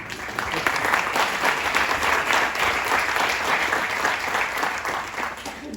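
An audience in a hall at a Catalan stage show claps continuously and fairly loudly for several seconds in a dense, even wash of applause with no talk over it.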